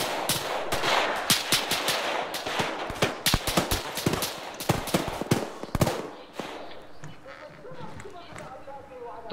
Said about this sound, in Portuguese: Ouvi os tiros pegando, mas não vi de onde vinha.